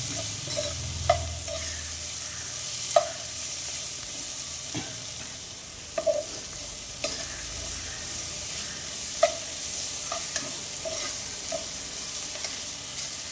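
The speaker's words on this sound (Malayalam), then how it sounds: "സമയമെടുത്ത് തന്നെ കുറച്ച് ഇളക്കണം" Beef curry masala frying in a pan hisses with a steady soft sizzle while a spoon stirs it, scraping and clinking against the pan every second or two, close by with no voices.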